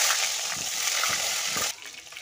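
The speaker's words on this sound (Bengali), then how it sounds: "ওই তেলে আলুগুলোও কষে নেব।" Potatoes frying in oil in a pan give a loud, steady sizzle with a few soft stirring knocks, then the sizzle drops sharply in the final half-second.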